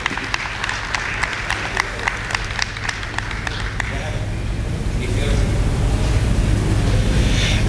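An audience at an MLK Day anniversary celebration applauds for Dr. Hill, with a few sharp claps giving way to a steady, louder wash of clapping from a large crowd.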